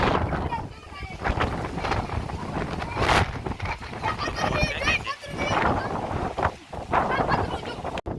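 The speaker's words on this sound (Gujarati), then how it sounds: "વાવાઝોડાની અસર હોય ને એવું દેખાઈ રહ્યું છે ત્યારે પવન ફેંકે છે" Storm wind whipping across a village, rushing and buffeting the microphone in steady gusts while a person talks over it.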